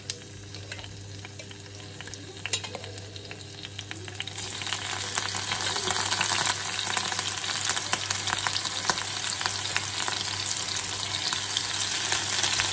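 Pineapple fries in butter in a pan with a steady close sizzle that grows louder and busier partway through, with occasional stirring clatter over a low constant hum.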